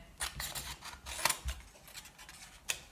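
Scissors snip through card stock while trimming a stamped card, giving a few quiet, crisp cuts spaced apart against a near-silent background.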